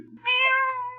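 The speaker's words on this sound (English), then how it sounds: "Where in blazes that cat come from?" A cat in a radio drama gives a single clear, drawn-out meow that rises and holds. It is loud and close after a brief low murmur.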